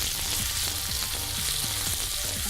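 Sliced bananas sizzle steadily in a hot pan as a chopstick turns and stirs them, adding soft intermittent scrapes and taps over the constant frying hiss.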